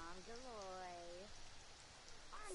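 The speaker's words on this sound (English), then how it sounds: "Oh, it's raining again." Rain falls in The Sims 4 video game, a steady soft hiss that runs throughout, with a game character's babbling voice over it at the start.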